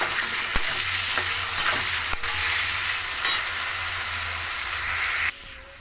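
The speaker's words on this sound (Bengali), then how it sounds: "আলুতে দিয়ে দেবো হলুদ আর নুন, দিয়ে আলুটা ভালো করে ভেজে নেব।" Potato pieces seasoned with turmeric and salt sizzle steadily in hot oil, a close, continuous crackling hiss broken by a few sharp clicks of a stirring utensil, ending abruptly.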